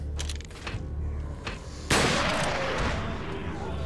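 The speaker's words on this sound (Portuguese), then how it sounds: "Então deixa eu dar um tiro de rifle aqui" A rifle shot in the video game Resident Evil 4 sounds as one loud, broad blast that cuts sharply through a murmur of background game sound and speech, then trails off in a noisy decay.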